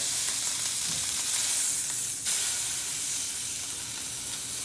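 Pork tenderloin frying in olive oil in a cast iron skillet, a steady close sizzling hiss that holds evenly throughout without pause.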